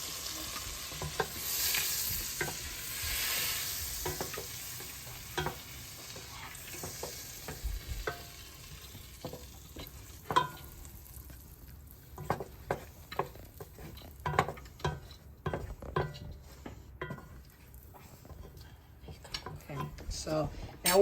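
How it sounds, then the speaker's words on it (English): Turkey chili with garlic powder is stirred in a pot over a faint sizzle, with repeated sharp spoon taps and scrapes against the pot that grow busier toward the end, and a voice talking at times. "we need to start mixing this."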